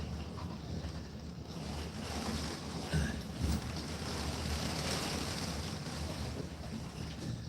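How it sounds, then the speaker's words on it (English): Hurricane Ian's wind in Lakeland, Florida, blowing sideways past a slightly cracked window: a steady, loud, broadband roar and rush with a few stronger gusts, no voices. "that wind was blowing sideways"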